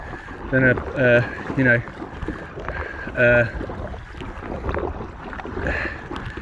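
Water sloshing and paddle strokes from an Aqua Marina Steam 412 inflatable kayak on choppy water at Loch Lomond, under wind noise, with someone talking at intervals.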